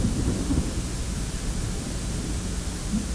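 A heavy thunderstorm brings dense, steady rain and a deep rumble, a continuous loud wash of noise with no pauses.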